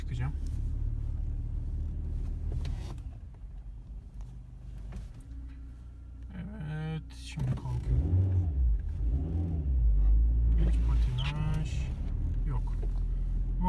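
A car on Goodyear tyres labours up a slope during a tyre test, its engine rumbling and rising in the middle of the climb while people talk over it throughout.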